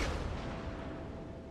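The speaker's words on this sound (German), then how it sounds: "Die Sekundären, wenn sie hier schießen, schaut einfach nice aus." Secondary guns on the Tirpitz battleship in World of Warships fire in a dense, continuous rumble of booming artillery, loud and steady across the whole short stretch with no voices.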